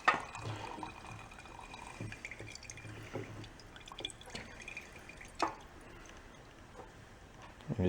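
Fresh gasoline flushing out of a portable generator's fuel line, a faint trickle of dripping and splashing liquid with scattered drops and small spatters throughout.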